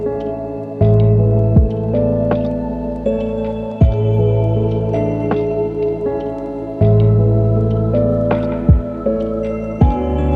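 Crystal-keys harmonic synth preset from Pigments, washed in reverb and EQ'd, playing sustained glassy chords with bell-like upper harmonics and soft bass notes that swell and restart every few seconds, loud and alone with no voices.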